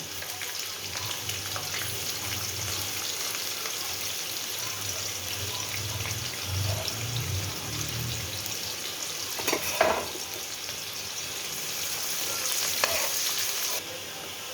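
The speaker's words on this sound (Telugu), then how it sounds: "ఆనియన్ కొంచెం వేగిందండి" Onions fry in oil with a bay leaf in a pan for coconut vegetable rice, producing a continuous soft sizzle, with a few spatula clatters near the end.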